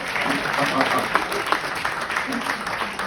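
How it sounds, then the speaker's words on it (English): An audience applauds a colleague, a dense, even wash of clapping that holds steady throughout, with a speaking voice faintly mixed in. "Please give an applause to your colleague."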